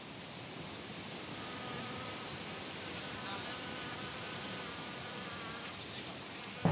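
A wild bee swarm in the jungle makes a continuous dense buzzing hum, steady and moderately loud from start to finish with no voices.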